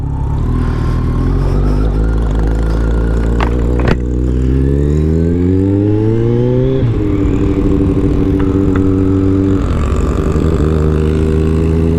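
A Kawasaki Ninja 1000 fitted with a cheap eBay aftermarket exhaust rumbles loudly up close, its pitch rising through a long rev, then falling back to a throbbing idle before another short blip.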